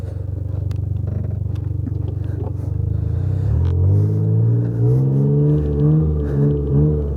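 Close, loud engine of a John Deere Gator with an exhaust leak, running as a rough, raspy idle that rises into uneven revving with a wavering, strained pitch.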